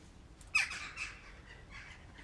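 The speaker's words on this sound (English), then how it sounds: "Just a bird." A garden chicken gives one brief, sharp squawk followed by a softer trailing call, faint and somewhat distant against quiet outdoor ambience.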